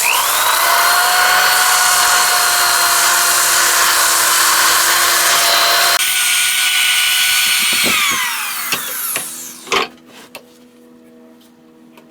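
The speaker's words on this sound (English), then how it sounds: "I'm just going to sand this." A live-edge wooden bowl spins on a lathe while being sanded, giving a loud steady whine with a broad abrasive hiss. The motor then winds down, leaving a few light knocks and clicks.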